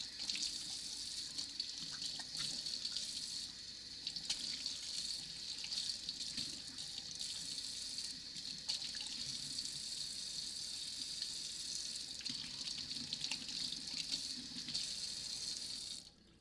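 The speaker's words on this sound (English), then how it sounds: "Sorry about the rushing water sounds. I gave it a quick rinse" Tap water rushes steadily into a container being rinsed out during mead making, a continuous bright splashing hiss that holds for the whole stretch with no talking.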